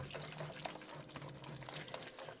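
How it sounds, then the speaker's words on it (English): Water is poured into a pot of cooking grits, a faint, steady splashing trickle heard alone and quietly. "I just add a little bit more water."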